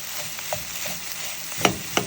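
Carrot egg bhurji is stirred while frying in a pan, giving a soft continuous sizzle with a few sharp spatula scrapes and clinks near the end.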